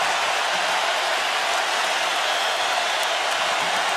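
A packed stadium crowd at a 2019 national championship college football game, Alabama against Clemson, roaring in a steady, loud wash of noise that holds for the whole stretch without letting up.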